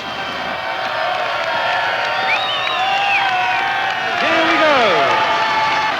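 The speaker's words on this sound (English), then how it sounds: "A cheer goes up for that." Crowd gathered at the Berlin Wall cheers and whoops, a broad roar with rising individual shouts, swelling louder toward the end, with a voice speaking over it.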